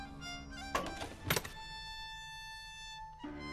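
A stuck, crud-covered lid pops open in the Cthulhu adventure game Gibbous, with two sharp thunks about half a second apart over a steady droning game music bed.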